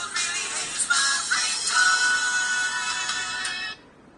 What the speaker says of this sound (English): There's my custom ringtone.